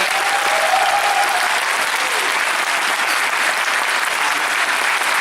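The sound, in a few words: audience applause at comic con panel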